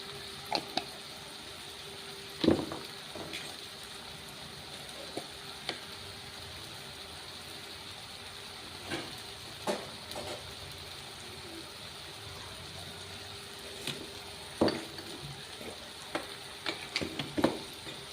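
Ground spice paste sautéing in a pan with young jackfruit and shrimp gives a steady, low sizzle, broken by occasional sharp clinks and scrapes of a spatula stirring against the pan.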